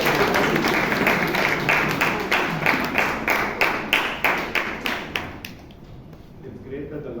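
An audience at a Toastmasters meeting in Bangalore claps in a dense, loud burst that settles into a steady rhythmic beat, speeding slightly before stopping abruptly, with faint murmuring afterward.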